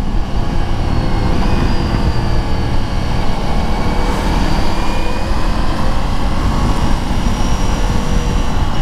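Ducati Multistrada V4 Pikes Peak adventure motorcycle accelerating on a night ride, a loud, steady engine roar with heavy wind rush, close and continuous throughout.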